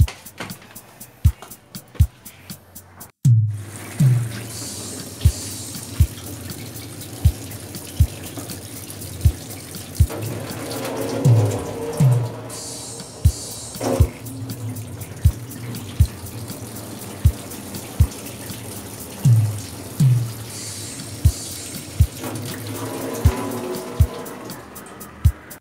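A faucet on a home water system in a laundry area runs steadily for the whole stretch, with a regular series of sharp drips or taps and occasional louder splashes and sloshes over the flow.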